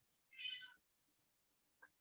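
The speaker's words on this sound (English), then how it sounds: "Is that your cats, Jason?" A cat meows at the door in one clear, fairly close call, followed after a pause by a brief, fainter second sound, with quiet room background and no talking.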